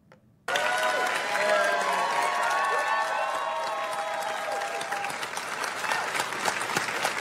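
Enthusiastic crowd applause at a political event with Tim Walz clapping, bursting in suddenly and holding loud and dense, with some cheering mixed in, then easing slightly.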